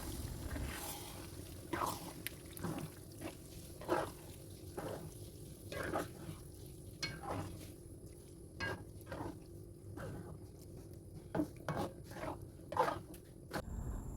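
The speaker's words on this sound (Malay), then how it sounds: "Kacau-kacau sehingga sebati." Arrabbiata pasta sauce being stirred in a pan, giving soft wet squishing and scraping with occasional utensil knocks against the metal, moderately close and steady with no talk.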